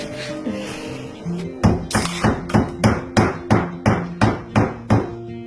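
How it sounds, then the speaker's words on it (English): Hammer blows strike a wooden window frame, about a dozen sharp knocks in a steady, quick rhythm, close and loud, following a few seconds of quieter handling. "he keeps hammering the crap out of it"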